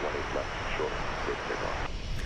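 A jet airliner takes off at DFW Airport, its engine roar a broad, steady rush heard from a distance with no voices over it.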